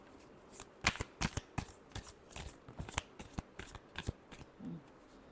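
A tarot deck is shuffled by hand up close, giving a quick series of crisp riffling snaps and soft card slaps in an uneven rhythm against a quiet room.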